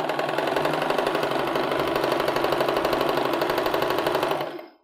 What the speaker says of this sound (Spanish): vamos a coserlo a máquina, primero con costura recta y después para reafirmar con zigzag